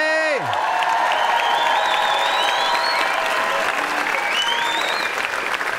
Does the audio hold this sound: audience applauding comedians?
yes